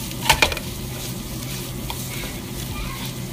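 Chicken and spices sizzling in oil or ghee in a pot while being stirred, a steady close frying hiss with a couple of sharp scrapes of the spoon near the start.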